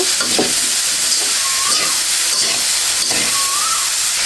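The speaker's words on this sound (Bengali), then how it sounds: "লবণটা দিয়ে খুব সুন্দর করে মিশিয়ে নিচ্ছি" Shredded cabbage frying with salt in a pan, stirred steadily for a vegetarian cabbage ghonto, makes a loud continuous sizzle and hiss, with scraping strokes of the spatula and a faint squeak between them.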